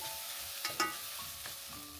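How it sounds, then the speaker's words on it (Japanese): Faint, steady sizzling of onions stir-frying in a pot over medium-high heat, with a few soft scraping stirs and light clicks of a utensil. "炒めているとこんな感じで玉ねぎの水分が蒸発して鍋底に糖分や繊維が張り付いて軽く焦げてきます。"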